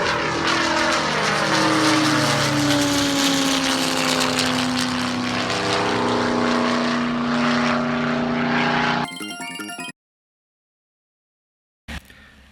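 Propeller airplane heard from outside in flight, a loud droning engine with a slowly falling pitch sweep as it passes, then a sudden cut to near silence broken by brief clipped bursts.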